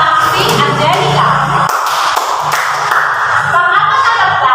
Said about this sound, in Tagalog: bigyan niyo ng 10 palakpak si Angelica